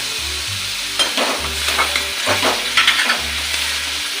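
Garlic, onion and shelled peas frying in a wok, a close, steady sizzle broken by several sharp stirring scrapes, with a low humming tone underneath.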